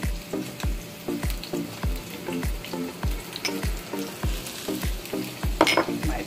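Scallion whites, red onion and carrots fry in a pan with a soft continuous sizzle, punctuated by regular low thumps and scrapes of stirring, close but fairly quiet and without talk.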